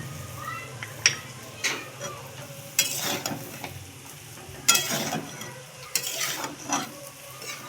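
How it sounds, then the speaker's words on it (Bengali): Meat frying with cumin and other spices in a kadai for biryani, with repeated scraping bursts of a spoon stirring the pan over a faint, steady sizzle. "দিয়ে মাংসগুলোকে ভালো করে কষাবো সব মশলার সঙ্গে।"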